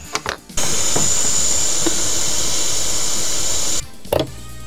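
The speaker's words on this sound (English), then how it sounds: "this is a shockingly hot air gun" A hot air gun used to desoldering a small SMD microphone blows with a loud, steady hiss and whine for several seconds, cut off abruptly at both ends, with brief handling clicks before and after.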